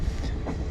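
Passenger train rolling through Sri Lankan countryside on the scenic Ella line, a steady close rumble of wheels and carriages with faint rhythmic clatter, no voices.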